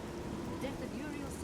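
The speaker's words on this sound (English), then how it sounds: "Well, apparently it's raining." Rain falls in the market district of the video game Oblivion, a soft, steady hiss of drops that stays faint and even over the short stretch.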